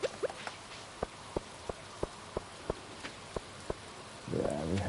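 Rain falls in the Stardew Valley video game as a steady soft hiss, with evenly spaced light taps about three per second over it and a brief rumble at the end.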